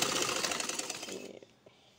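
A sewing machine runs in a steady rapid whir while stitching brown lace onto a suit sleeve, loud and close for over a second before stopping abruptly, leaving a faint tap or two.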